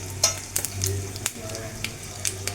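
Chilies crackle and sizzle in hot coconut oil with mustard seeds, with sharp popping spurts over a steady frying hiss.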